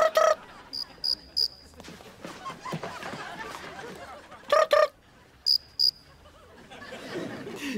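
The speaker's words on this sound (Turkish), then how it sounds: "birbirine sürterek ses çıkaran küçük bir böcektir" Cricket chirps come in short repeated bursts, some of them in quick pairs, with a rough, noisy outdoor scene between them. Other sounds are mixed in underneath.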